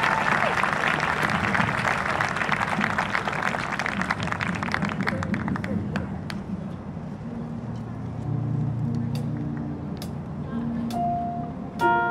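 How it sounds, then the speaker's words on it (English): A crowd at a university presidential inauguration ceremony applauds the band. Thick, continuous clapping fills the first half, then thins out and fades into a low hum and murmur. "Can we get a round of applause for the band?"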